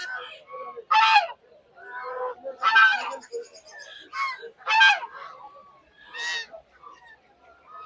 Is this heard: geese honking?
yes